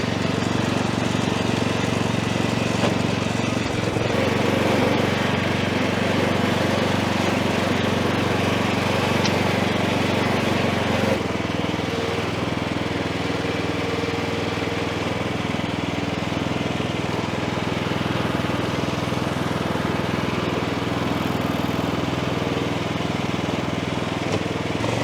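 Compact ride-on lawn mowers, a Cobra LT86HRL and a Mountfield, drone steadily in a garden. The engines hum continuously at moderate distance, with a slight shift in tone partway through.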